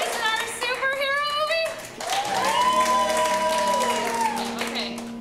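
A crowd at an improv comedy show breaks into clapping and cheering that swells after a brief voiced call, then holds with a long shout above the dense applause.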